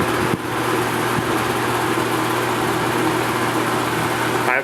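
An Edison two-speed 20-inch box fan runs close by with a steady, loud motor hum and even airflow rush, unchanging throughout with no voices.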